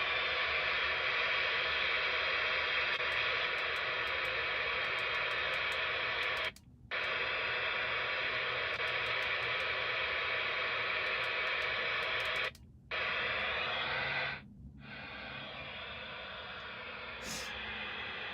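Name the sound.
radio scanner static with squelch turned off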